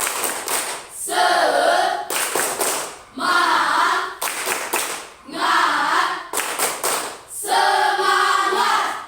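A classroom of students performs a rhythmic spirit clap, loud claps in repeated patterned bursts separated by brief pauses and shouted group chanting, four cycles in a row.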